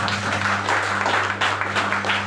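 Hearty applause from an audience at a business gathering in India, a continuous crackle of many hands clapping over a steady low hum, loud and even across the whole stretch, without talking.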